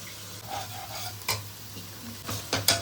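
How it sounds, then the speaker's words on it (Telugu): Ginger garlic paste frying in oil with mint leaves for an Andhra style chicken kurma, a soft steady sizzle broken by a few sharp spatula scrapes and stirs against the pan, no talking. "ఇప్పుడు మనం అల్లం వెల్లుల్లి పేస్ట్ వేసుకుందాం."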